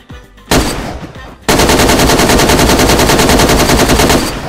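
Rapid machine-gun fire in the DayZ video game, a short burst followed after a pause by a long, loud sustained volley of evenly spaced shots close by.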